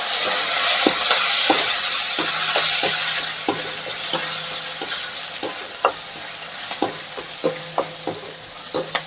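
A tempering of mustard seeds, cumin, dried red chillies and curry leaves sizzles in hot oil while being stirred, a loud continuous hiss punctuated by regular sharp spatula scrapes and taps growing more frequent.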